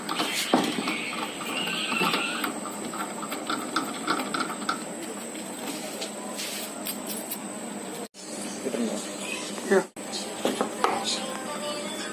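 A power drill boring two holes through a metal piece for a homemade bench vise, a steady high-pitched whirring grind, close and continuous, with two brief stops near the end.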